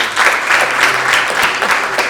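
A church congregation applauding during a Sunday morning service, loud rhythmic clapping in pulsing waves that stays close and full throughout.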